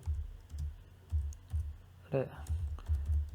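Code being typed on a computer keyboard: quick close clacking keystrokes in an uneven rhythm, with a brief snippet of speech partway through.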